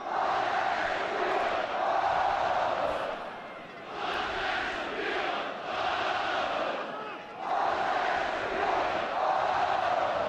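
Bosnian football fans roaring in a packed stadium during a match against the USA, a continuous loud crowd din with surging waves of chanting and cheering that dip briefly and rise again.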